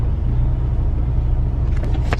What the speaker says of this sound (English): Alright, so I forced it into regen. It's regenning right now.